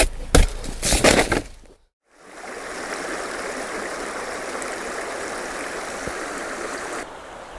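Steady broadband rush of running water from several small streams meeting on flat ground in the Kaz Mountains, continuous and even after a brief burst of other noise and a short silence.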